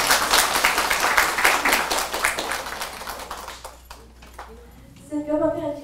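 A temple audience claps with brisk, distinct claps that fade out over about four seconds, followed by a voice speaking.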